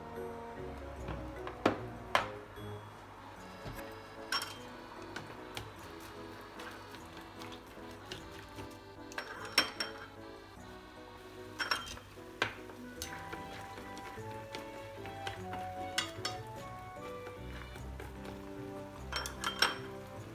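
Ingredients for oyakodon are stirred in a bowl, giving a continuous run of light clinks and scrapes of utensil against the dish, close and quiet, with no speech.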